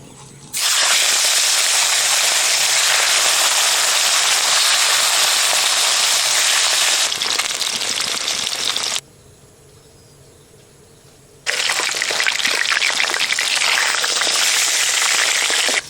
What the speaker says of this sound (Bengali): তেল গরম হয়ে গেছে দেখুন ধোয়া উঠছে এবার মাছটা আমি হালকা করে ভেজে নেব